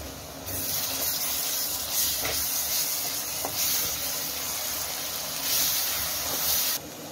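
Ginger garlic paste sizzling in a pan with softened onions for prawn thokku, a steady close hiss and sputter that swells and eases in waves, with no talking.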